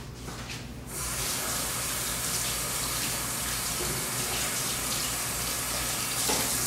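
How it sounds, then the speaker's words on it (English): A tap is turned on for washing hands: after a second of near quiet, water suddenly gushes and keeps up a steady, close splashing rush to the end. "I'm going to wash my hands off real quick."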